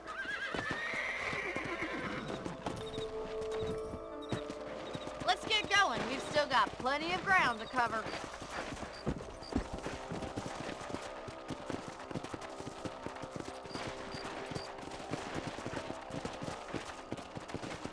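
Horses in the video game Red Dead Redemption give a clear whinny early on, and hooves clip-clop steadily under a voice.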